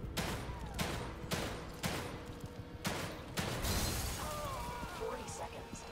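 Gunfire in the survival horror video game The Evil Within 2 during a boss fight, several loud sharp shots spaced about a second apart with shattering debris, mixed with game music and effects.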